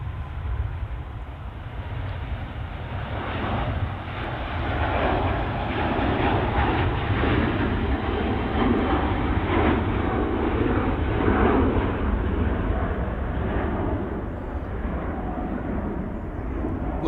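Airliner passing at Manchester Airport, a broad rushing jet roar that swells gradually and fades slightly toward the end, steady and fairly loud, with no speech.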